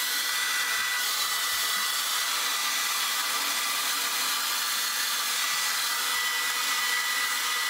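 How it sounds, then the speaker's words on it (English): A hair dryer blows continuously as hair is dried, a steady, close, loud airy roar with a high whine that holds unchanged throughout with no voices. "I'm finally done blow drying my hair"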